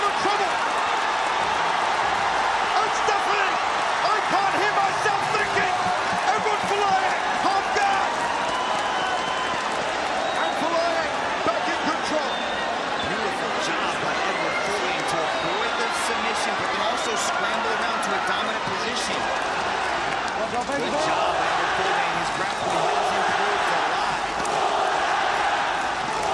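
Arena crowd at an MMA fight roars steadily in support of Filipino fighter Eduard Folayang, a dense, continuous wall of cheering and shouting with no letup, carrying scattered whoops and claps throughout.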